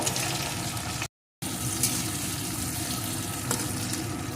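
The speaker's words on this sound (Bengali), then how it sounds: "এখন এটাকেও একটু ভেজে নেব" Chopped tomato frying in a pan for a ridge gourd curry, with a steady close hiss of sizzling oil. Stirring scrapes sound through it and a brief dropout cuts in near the start.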